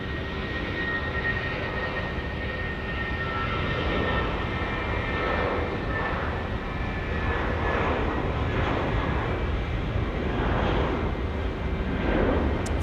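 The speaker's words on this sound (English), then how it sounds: "Service off to Christchurch now. Departing here at runway 23, Auckland Airport in New Zealand." A passenger jet departs runway 23 at Auckland Airport in New Zealand, bound for Christchurch, its engines holding a steady, continuous broadband roar at moderate distance throughout.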